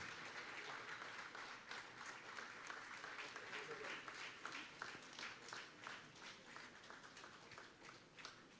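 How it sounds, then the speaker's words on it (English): A seated audience at the inauguration of a science congress gives a warm round of applause, dense steady clapping sustained for several seconds, distant and faint, with no one speaking. "Let's congratulate Professor V.P.N. Nambudiri with a warm round of applause."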